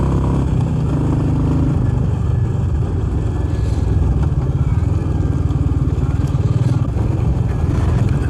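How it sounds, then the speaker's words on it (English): A Royal Enfield Meteor 350 motorcycle accelerates up a steep hill, its engine droning steadily and loudly with a close, continuous throb and a slight rise in effort. "opening the throttle and the bike accelerates"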